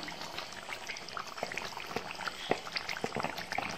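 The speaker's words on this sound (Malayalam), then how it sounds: "ഇനി നമുക്ക് ഇതിൻ്റെ മിക്സ് ഇരിക്കുന്ന ഗ്രേവിയും കൂടെ ഇതിലേക്ക് ഒഴിച്ചു കൊടുക്കാം" Leftover gravy poured over chicken pieces in a hot pan for hariyali chicken, a steady wet pouring and bubbling sizzle with small clinks, close and moderately loud, no talking.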